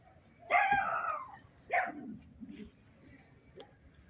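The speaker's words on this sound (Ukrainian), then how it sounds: "ось ці собаки сусідські" Neighbours' dogs barking outdoors in a garden, a couple of sharp mid-distance barks followed by softer yips and whimpers, with gaps of quiet between them.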